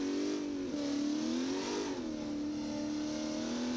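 A Chevy C10 truck engine in a driving game revs and holds a steady drone, with two short dips and rises in pitch as the throttle shifts, loud and continuous with no talk over it.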